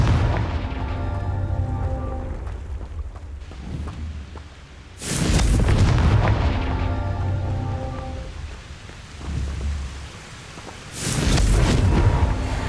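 Confringo blasting spells in Hogwarts Legacy go off as two loud, booming blasts several seconds apart. Each one crackles and rumbles as it fades over low magical ambience, and no one speaks.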